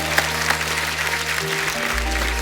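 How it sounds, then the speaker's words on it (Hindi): A studio audience on a comedy show applauds an honoured classical singer, moderate clapping under sustained musical tones and a low hum, brief and fairly steady. "उनके लिए जोरदार तालियां हो जाएं।"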